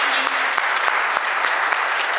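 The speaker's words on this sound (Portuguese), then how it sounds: "Nós que estamos aqui, vamos aplaudir o Senhor" A church congregation claps steadily and loudly, the dense applause continuing without a break.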